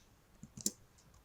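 A few quiet, close keystrokes on a computer keyboard, light clicks in a brief cluster with no talking.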